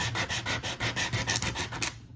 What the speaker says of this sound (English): I actually think I am going to sand a little bit of that pink